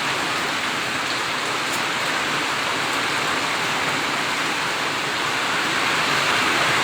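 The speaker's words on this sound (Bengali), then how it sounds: "বাতাস রয়েছে বাতাস রয়েছে বৃষ্টি পড়ছে" Steady, dense night rainfall hisses continuously with a gusty wind roar underneath, loud and unbroken throughout, in Naria, Shariatpur, Bangladesh.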